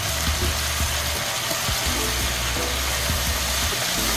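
Chicken afritada being stirred in a pan, with a steady broadband sizzle and irregular scraping knocks of the utensil through the whole stretch, close and moderately loud.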